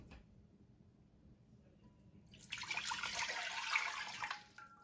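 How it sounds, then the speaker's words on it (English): Water poured into a glass jar for pickling, a soft splashing, gurgling pour that starts midway and grows slightly louder before fading near the end, with quiet room tone before it. "Your hand poured the water"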